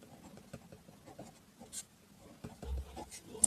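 A pen writes out a profit percentage formula in faint, scratchy strokes with a few light taps, quiet and close, with no talking.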